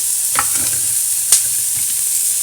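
Carrots for a carrot chutney frying in a hot pan on a home stove, a steady bright sizzle with a few sharp scrapes of stirring, close and alone.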